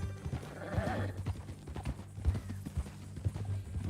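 Horse hooves clip-clop in a steady walking rhythm in a Western video game, close and moderately soft, with a low tonal hum underneath.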